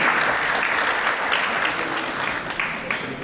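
An audience at an ISKCON Toronto Rama Navami lecture applauds steadily for a speaker after his first talk, a dense, sustained wash of clapping at moderate volume throughout.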